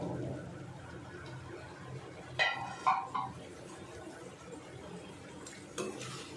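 A lid lifted off a cooking pan of simmering egg masala, a few faint metallic clinks and clatters in quick succession amid quiet kitchen background noise, with another soft clink near the end.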